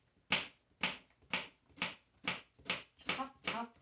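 A knife chops vegetables on a board, giving eight evenly spaced sharp knocks at about two per second, close and clear with no voices.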